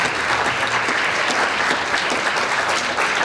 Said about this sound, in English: So why don't you give our senior senator, former governor, a round of applause.